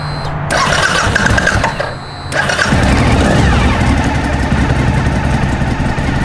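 A 2004 Suzuki V-Strom 1000 motorcycle engine runs loud and close, with a brief dip in the throttle before revving back up to a strong, steady roar.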